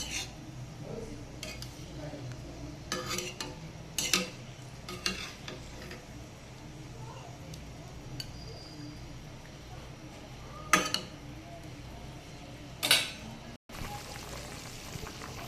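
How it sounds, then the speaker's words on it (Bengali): Hilsa fish curry with eggplant and potato bubbles in a pot, a soft simmering hiss broken by scattered clinks and scrapes of a utensil against the pan. "দেখুন আমার ঝোলটা কিন্তু ফুটে উঠেছে।"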